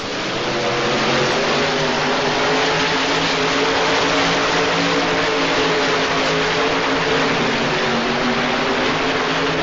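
A Chevrolet El Camino truck-pull vehicle with a big Aries motor roars at sustained full throttle down the track at an indoor pull, loud and close, with no talk over the continuous engine howl.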